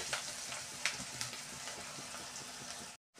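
Onion frying in a pan for tomato chutney, a close, steady crackling sizzle with a few sharper pops, ending abruptly in silence.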